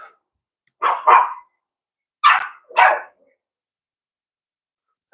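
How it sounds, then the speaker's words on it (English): A neighbour's dog barks from next door on a sunny day: two quick barks, a gap of about a second, then two more, with quiet pauses between and no talking. "Gonna have a barking competition now because next door's dog's out"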